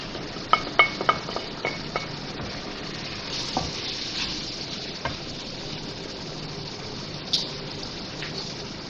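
Minced keema fries in a pot with green chillies and spices. A few sharp clinks of utensil on metal open over a soft, steady sizzle, with an occasional stir later, all close by.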